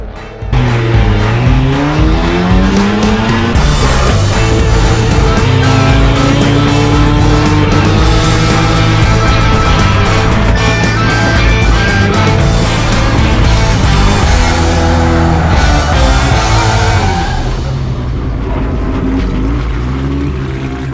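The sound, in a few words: Mazda RX-7 race car driving on track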